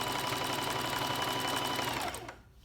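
A sewing machine stitches fabric in a steady, fast whir, then slows and stops near the end as the needle is set at a corner for pivoting. Close and loud, with no talking.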